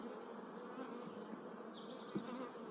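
Honeybees buzz around a hive frame, a soft continuous hum with individual bees droning close past now and then, faint and without any voices.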